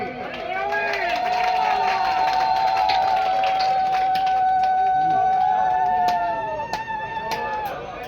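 A crowd cheers and whoops loudly and steadily at an open-air Danda Nacha festival stage in Odisha, the roar holding for several seconds with a few sharp claps and shouts before easing slightly at the end.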